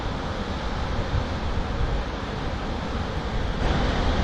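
A steady, roaring rush of white water pours through the Eildon pondage gates into the Goulburn River at 13,000 megalitres, loud and continuous, with no voices.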